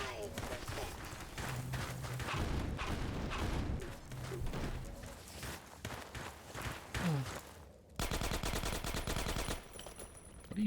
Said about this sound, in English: What are you shooting at, dude?